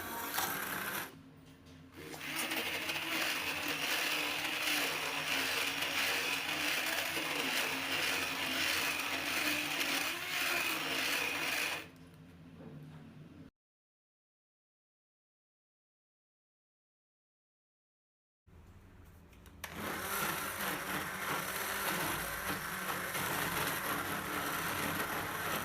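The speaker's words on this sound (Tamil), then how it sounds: "இதே மாதிரி நம்ம ஒவ்வொரு முட்டையாக போட்டு அடிக்க வேண்டியது தான்." Electric hand mixer whirring steadily while eggs are beaten into cake batter one at a time, a loud continuous motor drone that cuts out for a few seconds and then starts again.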